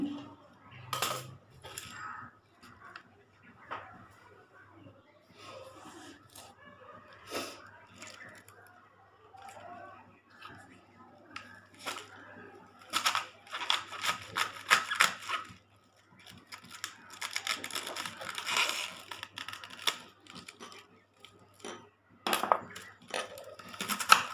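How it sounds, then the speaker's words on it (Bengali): Cabbage being cut with a knife on a board in a home kitchen, a run of crisp, irregular chopping taps and slices, sometimes sparse and sometimes in quick dense bursts, fairly close with no talking. "বাঁধাকপিগুলোকে কেটে দিচ্ছি"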